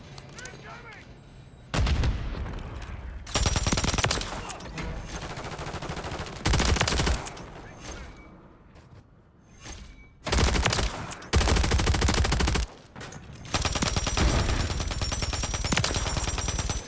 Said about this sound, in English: I got that light machine gun